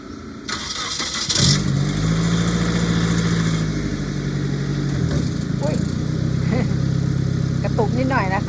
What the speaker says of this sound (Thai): เดี๋ยวคุณพ่อสตาร์ทรถก่อนค่ะ